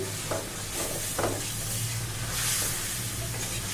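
Hilsa fish pieces fry in a wok with a splash of water added, giving a steady, close sizzle and hiss with light stirring scrapes throughout.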